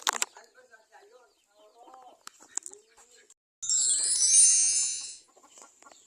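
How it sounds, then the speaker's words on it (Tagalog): Chickens on a farm cluck and call in short bursts while people talk nearby, with a brief louder hissing noise in the middle. "Ang daming manok dito."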